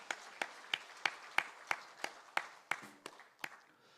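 A church congregation claps together during a Sunday morning service, a dozen or so sharp, evenly spaced claps in a steady unison rhythm, fairly close and moderately loud, with no voices over them.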